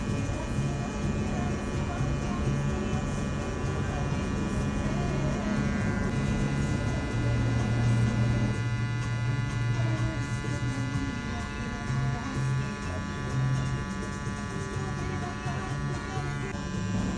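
Electric hair clippers with no guard buzz steadily and close up while cutting a burst fade, a continuous loud drone that shifts slightly as the blade works through the hair.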